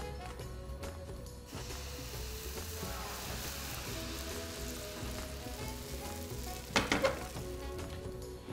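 Batter spread thickly into a hot pan fries with a continuous, close sizzle and light crackle, broken briefly by a soft clatter of cookware near the end.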